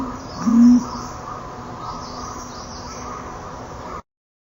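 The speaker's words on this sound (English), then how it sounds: "But listen to the cooing of this pigeon." A pigeon coos softly and continuously at close range, a low throaty murmur with faint chirps in the background.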